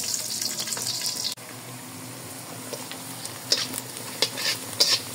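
Ginger and garlic sauté in a pan with a bright, close sizzle. A brief stir dips the sound before crackling spits and scrapes return.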